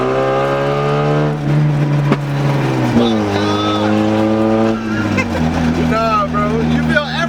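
A lowered Mazda Miata drives past, its engine droning in steady harmonic tones that shift in pitch as it approaches and moves away. People talk over the engine throughout.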